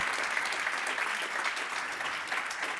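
An audience at a conference claps in continuous, even applause that fills the whole moment, close and steady without a break.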